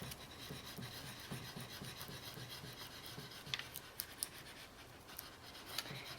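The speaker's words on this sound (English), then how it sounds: "press it down on this textured surface, burnishing it again with my spoon" Metal spoon burnishing a leaf onto textured encaustic wax, a steady close scratchy rubbing in repeated strokes, with a few sharper scrapes toward the end.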